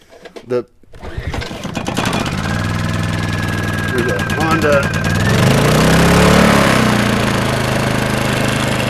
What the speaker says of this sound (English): Honda generator. That's really surprisingly and beautifully quiet.